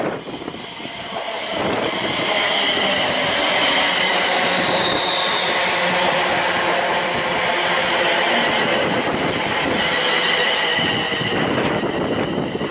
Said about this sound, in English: Here comes a 4-car 380 doing 2 Tango 11 from Glasgow Central to Largs.